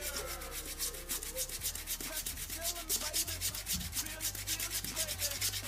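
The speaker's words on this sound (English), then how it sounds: "So again, just keep scrubbing with the toothpaste." Rhythmic scrubbing with toothpaste on the wet outsole of a Reebok Z-Pump Fusion "Neon" sneaker, close and steady, with repeated rasping brush strokes over faint background noise.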